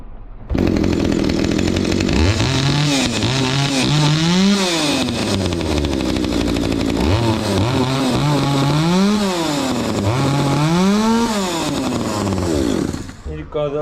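An old chainsaw that sat unused for years starts and runs, its two-stroke engine revving up and down in repeated swells with a steady idle between, loud and close, with someone speaking over it.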